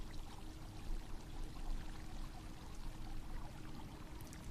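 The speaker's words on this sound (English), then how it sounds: "accompanied by the sound of rushing water" Rushing water in a quiet mall court after hours, a dense, even wash of pouring flow like a fountain, steady and fairly faint throughout with no voices.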